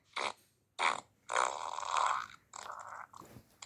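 Recorded fart sound effects play close and loud as a run of five short, separate blasts, some sputtering and some drawn out, with brief silences between them and no talking.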